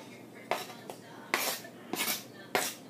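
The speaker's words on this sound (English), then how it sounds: "Go ahead and put these onions in the pot." Onions tipped into a pot of Montreal-style stew beef give five quick metallic clinks and scrapes of utensil against pot, irregularly spaced and fairly close.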